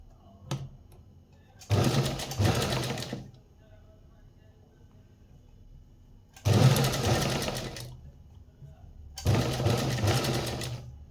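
A sewing machine stitching fine seams on a blouse cup section runs in three loud, steady bursts of a few seconds each, separated by near-silent pauses, with a brief tap just before the first run.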